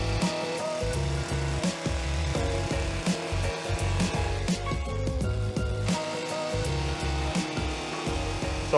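A hedge trimmer cuts along the sides of a row of trees, a continuous buzzing motor with rhythmic chattering blade bursts and brief dips, close and loud with no talking.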